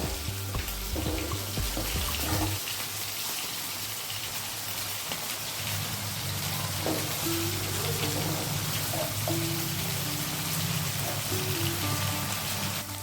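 Masala for lote fish curry sizzling hard in oil in a pan, a dense continuous hiss with faint low hum underneath, steady and close throughout.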